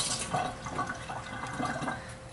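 Broccoli being rinsed under a running tap in a home kitchen, a steady close splash and gurgle of water that continues throughout, with no talk.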